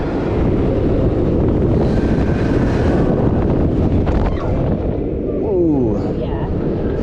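A rider's point of view on Hype, a Premier Rides Sky Rocket launched roller coaster in Finland: loud rushing wind roars over the microphone with rattling track noise and brief vocal exclamations from the riders.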